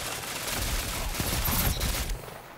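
Pulse rifle fire in a Destiny 2 Iron Banner match forms a dense, continuous rattle of rapid shots that stops abruptly near the end.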